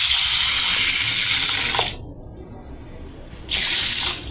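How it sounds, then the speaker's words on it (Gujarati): Water poured over a bowl of soaking horse gram in a home kitchen: two steady, close hissing pours separated by a short quiet pause. "આપણે તે ડૂબે એટલું આપણે તેમાં પાણી નાખી દઈશું।"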